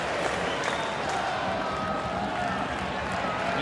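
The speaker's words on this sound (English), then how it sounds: "here's the loudest cheer of the day, apart from Cummings' goal, for the arrival" A football crowd roars and cheers at an A-League match between Central Coast Mariners and Newcastle Jets as a player comes on, a broad, sustained stadium swell under commentary.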